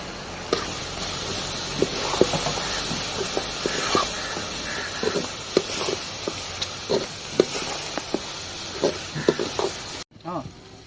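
Chicken masala is stirred in a hot pan for a turkey stir-fry, with a constant loud sizzle and hiss broken by repeated scraping strokes, while voices talk in the background. The sound cuts off abruptly near the end.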